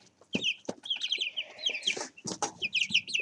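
Chickens cluck close by in short, irregular bursts, with some higher squawks and chick peeps mixed in, and no talk over them.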